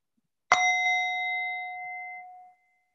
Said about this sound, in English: the ringing of the singing bowl